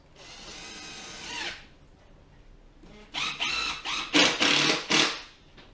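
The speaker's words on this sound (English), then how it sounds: "stick a few screws in the corners" Screws driven into the corners of an artificial hedge panel with a power drill: one sustained whir, a pause, then several short bursts in quick succession, fairly close and loud, with no talking.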